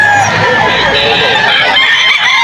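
Bullstag gamecocks crow and cluck at a busy Bocaue pet market, close and loud over a dense crowd hubbub, with rooster calls overlapping throughout.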